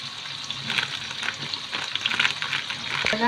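Onions, green chillies and turmeric fry in oil in a kadai, a close, bright sizzle with bursts of stirring that swells louder toward the end of the short stretch; nobody talks.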